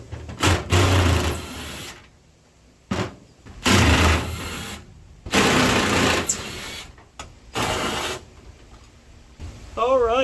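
Mechanical ratcheting and metallic working bursts from a socket wrench loosening a nut on a 1953 Chevy, coming in several loud, uneven spurts separated by short pauses, with someone talking intermittently.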